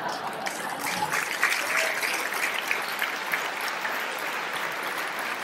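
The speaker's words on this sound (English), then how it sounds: "It's really nice to get a clap for that" Comedy club audience clapping steadily for a stand-up comedian, a continuous mid-level patter of many hands that holds evenly throughout.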